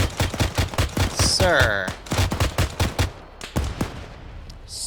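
Rapid bursts of gunfire in a military video game, sharp repeated shots in a fast rhythm with a short pause, while players talk over the shooting.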